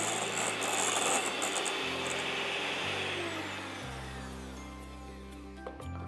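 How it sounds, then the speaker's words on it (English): An electric mixer beats butter for vanilla cake batter, a loud steady motor whir whose pitch steps down in stages as the beaters work, with no talk. "use an electric mixer like this until it's fluffy"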